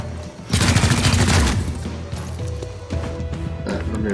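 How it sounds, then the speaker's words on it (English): Weapon fire erupts in the XCOM: Chimera Squad game as a dense, loud burst of rapid shots, fading into lighter sounds, with a voice speaking over the game audio. "And fire the weapon."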